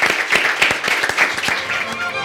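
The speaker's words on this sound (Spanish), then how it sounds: "Pido un aplauso para el presidente." Audience at a corporate presentation applauding the president, a moderate burst of close, sharp individual claps with a brief trailing spatter.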